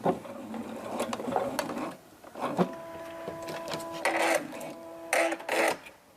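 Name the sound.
sewing machine stitching a backstitch on a hem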